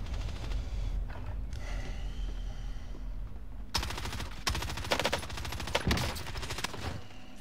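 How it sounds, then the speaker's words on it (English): Rapid automatic gunfire in the Warzone video game, bursts of dense machine-gun fire crashing in loud and close after a stretch of low rumbling background, with repeated volleys to the end. "he's shooting me now"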